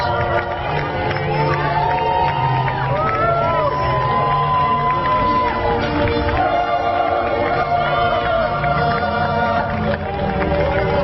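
A large outdoor crowd cheers for Vietnam veterans passing in a Bakersfield Veterans Day parade, a steady, loud roar of shouts and whoops that holds for the whole stretch, with voices mixed into the din.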